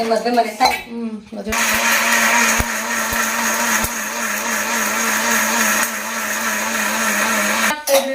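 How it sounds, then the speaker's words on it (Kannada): A mixer grinder whirs loudly and steadily for several seconds, starting abruptly after a brief pause and cutting off near the end, with clinks at startup. "ಮಿಕ್ಸಿ"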